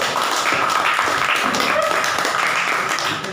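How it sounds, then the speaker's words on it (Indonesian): A room of people applauds a student group after a practice session on shrouding a body, giving dense, loud, continuous clapping that fades slightly at the end. "Kasih aplaus tepuk tangan untuk kelompok 1."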